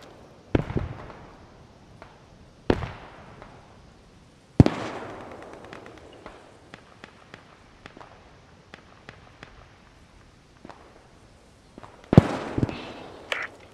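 Sniper rifle shots in the video game Post Scriptum, a handful of sharp, spaced-out cracks at irregular intervals with a lingering echo, mixed with faint footsteps and rustling, sounding fairly distant.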